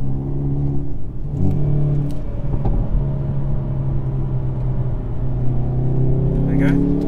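A Hyundai i30N on a race track track day drops a gear and pulls hard, its engine a steady loud drone with rising harmonics and a brief rev blip, running under a passenger and driver talking.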